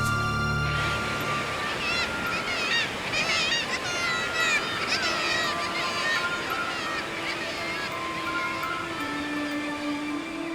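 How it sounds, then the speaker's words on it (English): Nesting seabirds on towering Arctic sea cliffs call in a dense, nonstop colony chorus of overlapping honking and squawking cries over a steady roaring background, with no single bird standing apart. "Cliffs towering over the Arctic seas are alive with nesting seabirds."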